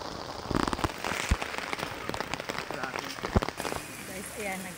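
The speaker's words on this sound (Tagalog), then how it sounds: "naglalakad na naman kami ng umuulan" Rain patters on surfaces during a nighttime walk in Antipolo, with scattered sharp drops and bumps, moderately close, and faint voices in the background.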